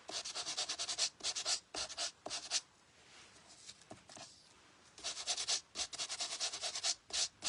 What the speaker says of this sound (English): this is the sanding block that I got that Stampin' Up! Used to have years ago